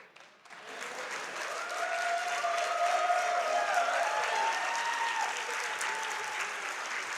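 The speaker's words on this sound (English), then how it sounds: "Oh, yeah, you can hear that crowd." A large crowd at a Games Done Quick speedrun event claps and cheers, building quickly after a quiet start into sustained applause with whoops and shouts.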